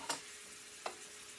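Butter melting and caramelizing in a pan for a sweet or sour pie filling, a faint, steady low sizzle with two soft stirring scrapes.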